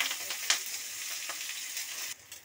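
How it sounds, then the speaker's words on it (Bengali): Chopped onions with green chilli and black mustard seed frying in hot mustard oil in a wok, a steady close hiss of sizzling with a brief stir clatter near the start and a short dip toward the end. "পেঁয়াজটাকে আমি একটু লাল লাল করে ভেজে নেব।"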